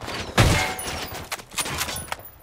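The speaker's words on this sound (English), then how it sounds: "Who the fuck is shooting at me?" Gunfire in the video game Ghost Recon: Wildlands sounds as one sharp, close shot followed by several fainter, more distant cracks over a muffled background.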